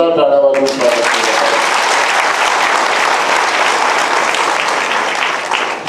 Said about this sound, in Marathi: आपण एकदा किशोरचं आणि आदरणीय पालकमंत्र्यांचं जोरदार टाळ्या वाजवून स्वागत केलं